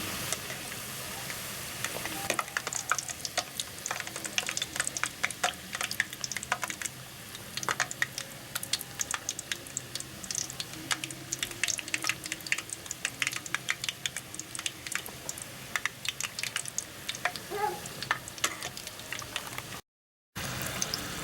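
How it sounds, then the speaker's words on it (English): Stuffed puri deep frying in hot oil gives a continuous close crackle and sizzle of dense bubbling pops, steady throughout with no talk. "So it is deep fried, light golden color."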